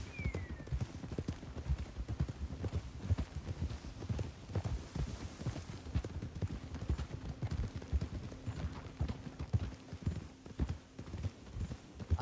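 Steady clip-clop of horse hooves at a trot in Red Dead Redemption 2, continuous and fairly faint, over a low background hum.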